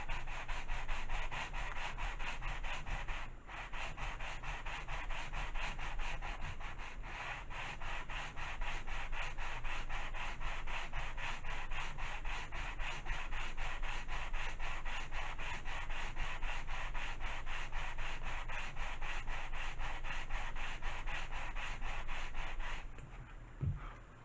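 A sanding block worked steadily back and forth over a model glider wing, a continuous close rasping rub with a fast, even rhythm that holds for over twenty seconds, then briefly pauses near the end.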